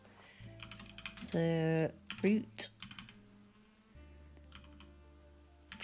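Quick bursts of computer-keyboard typing, close and crisp, broken by short pauses, with a few brief voiced sounds in between.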